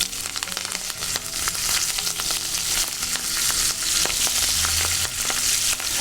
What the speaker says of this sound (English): we're going to add our broccoli raw to the pan